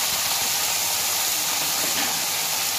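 Cauliflower florets tossed into hot oil in a kadhai, alongside potatoes for a mixed vegetable curry, give off a continuous loud hissing sizzle up close, broad and steady with slight surges, and no speech.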